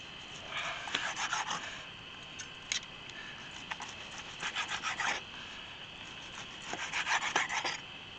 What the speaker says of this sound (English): we're just going to slice it on its bias